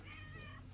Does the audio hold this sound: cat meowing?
yes